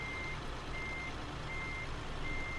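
Reversing beeps from a truck in the Scania Truck Driving Simulator video game, a steady series of evenly spaced electronic tones repeating over a constant low engine rumble.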